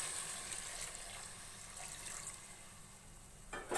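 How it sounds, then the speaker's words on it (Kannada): Water poured into a cooking pot holding goat head-and-trotters sambar after the tempering has cooked, a steady running splash from start to finish at moderate level, with a brief louder splash at the end. "ನೀರು ಹಾಕೋತಾ ಇದ್ದೀನಿ."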